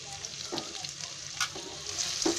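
Onion and a pinch of asafoetida frying in oil for dal fry, a steady close sizzle with a few louder spattering bursts and utensil scrapes.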